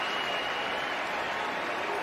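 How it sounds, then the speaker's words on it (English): Football stadium crowd at a Vikings vs Falcons game applauding an injured player as he gets up, a dense, even wash of clapping and crowd noise, distant and steady throughout. "Fans, by the way, applauding as he's up on his feet and standing."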